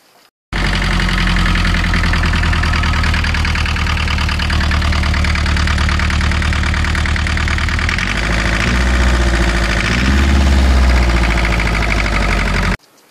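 Diesel engine of a Citroën CX Super 2200D idling steadily after being restarted, a loud close knocking drone that runs unbroken for about twelve seconds, slightly rougher and heavier near the end, with no talk.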